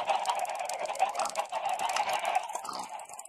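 Chickens cluck and squawk in a Minecraft barn, a busy chorus of repeated bird calls that stays loud and close throughout, with no talking.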